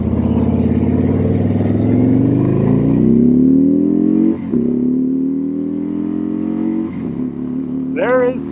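A Harley-Davidson Tri Glide Ultra trike engine revs and accelerates, a loud, close, steady rumbling drone climbing in pitch with brief dips at gear changes, building again toward the end.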